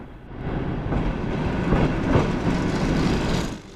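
A sleeper train on the China to Mongolia line rolls along the rails with a steady, dense rumble and faint rhythmic clatter, heard from inside the carriage with no talk.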